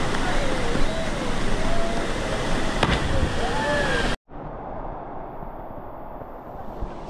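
The Kawasan Falls waterfall roars as a loud, continuous rush of water, with voices and whistle-like calls over it, before a cut to a quieter stretch of flowing water.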